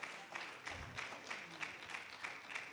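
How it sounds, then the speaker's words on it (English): Audience applause at a book launch as a guest walks up, steady rhythmic clapping from a modest crowd lasting the whole stretch, fairly faint and even. "Keep clapping till he gets here."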